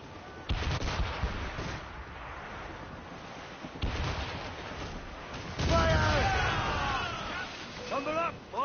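Ship cannons fire in naval combat in the video game Assassin's Creed Rogue, heavy booming volleys at about 0.5, 4 and 6 seconds, with shouted crew voices and battle noise between them.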